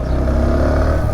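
A 2022 SYM VF 125 motorcycle engine running with a steady, loud, close throbbing hum and a low pulsing note, continuous through the brief moment.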